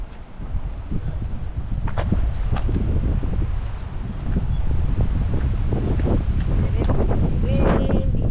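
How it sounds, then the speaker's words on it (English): Strong wind buffets a GoPro microphone in a constant, heavy roar, with scattered rustling and faint knocks throughout, outdoors at a llama rescue. "It is windy. Very, very windy. Probably doesn't do well with the GoPro."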